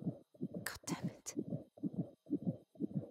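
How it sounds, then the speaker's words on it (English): Steady heartbeat from the horror video game Amnesia: Rebirth, a low double-thump pulse repeating about eight times in quick, even rhythm, close and prominent, with a brief breathy noise partway through. "No, I still hear a heartbeat."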